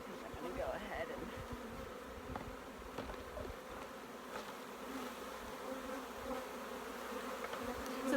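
Honeybees buzz steadily in a dense, continuous drone around brood frames being shaken at an outdoor apiary, individual bees whining past nearby at a moderate level.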